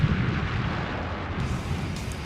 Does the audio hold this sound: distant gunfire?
yes